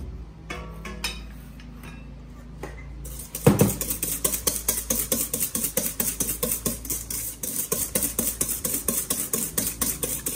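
Egg yolks and sugar whisked in a bowl: after a few scattered clinks, a steady, fast rhythmic tapping of a whisk against the bowl runs continuously, close and fairly loud, with no talking.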